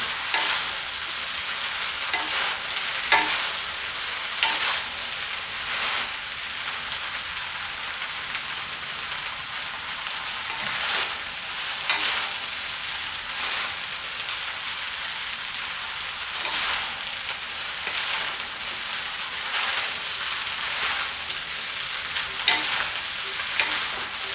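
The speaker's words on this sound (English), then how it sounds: "Toss the veggies in the noodles now." Vegetable chow mein with soy sauce being stir-fried as veggies are tossed through noodles in a hot wok, a steady loud sizzle with rhythmic bursts from each toss, no voices.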